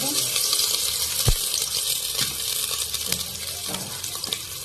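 Onions dropped into hot oil in a home kitchen pan while cooking a French-style dal, giving a steady close frying hiss with scattered sharp crackles and pops throughout.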